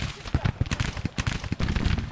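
Civil War musket and cannon fire from the Grand Tactician strategy game, a steady crackle of overlapping shots and booming reports with no voices.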